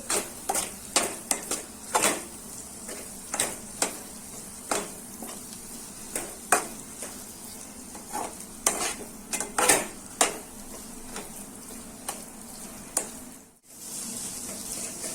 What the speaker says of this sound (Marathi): हे कमी गॅसवर असं हलवत राहायचं, खाली चिकटू नये म्हणून एकसारखं हलवत राहायचं